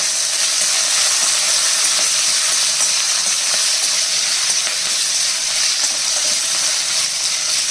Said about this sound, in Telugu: లేకపోతే పచ్చిమిరపకాయలు బాగా ఆయిల్ చిమ్మేస్తుందండి